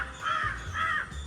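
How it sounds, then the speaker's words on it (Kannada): A crow in a morning Kerala village setting gives two loud, close caws in quick succession, with nothing else heard. "ಕಾಗೆ ಗುಡ್ ಮಾರ್ನಿಂಗ್ ಹೇಳ್ತಿದ್ದೆ."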